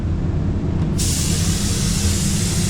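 An ANI F160 1.3 spray gun running at 40 PSI lays down paint in a downdraft booth, producing a loud, continuous airy hiss that jumps in intensity about a second in and then stays steady.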